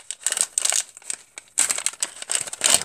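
A plastic Mega Construx Halo blind bag is torn open by hand at the top, producing close, crisp crinkling and crackling in several bursts with short pauses between them.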